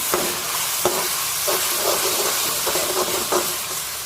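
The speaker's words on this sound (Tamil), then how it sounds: "இஞ்சி பூண்டு விழுது போட்டுக்கோங்க ஸோ இப்போ இது நல்லா சேர்த்து ஒன்று சேரணும் நல்லா வதக்கிடணும்" Ginger garlic paste sizzles and fries in a pan for a meatless biryani, with a steady hiss broken by regular scraping stirs of a spoon, close and with no talk.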